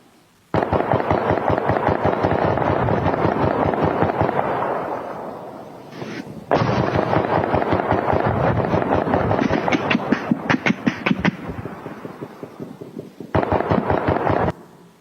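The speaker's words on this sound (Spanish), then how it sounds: "Escuche y vea la potencia de los disparos" Rapid bursts of automatic gunfire from a firefight in Yemen, loud and sustained, with dense cracking volleys broken by short pauses and a final burst near the end.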